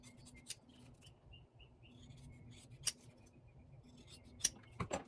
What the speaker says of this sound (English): And now we will trim up and finish off our snap tab